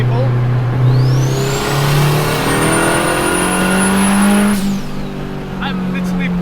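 A turbocharged K24 K-swapped Honda Civic EK pulling hard in fourth gear: loud, close engine drone rising steadily with a sharp, climbing turbo whistle that cuts off as the throttle lifts, followed by fainter blow-off chatter.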